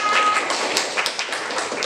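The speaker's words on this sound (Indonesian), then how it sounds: "tepuk tangan" A group of teachers at a training session clapping hands together, a dense, close, continuous patter of many quick claps over a couple of seconds.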